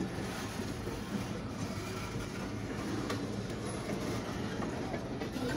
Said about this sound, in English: there's a train right there